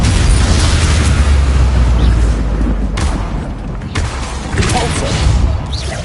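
Bombarda blasting spell cast in a Hogwarts video game, a loud booming explosion with a rumbling, crackling burst that persists for several seconds, a second blast erupting midway, close and heavy.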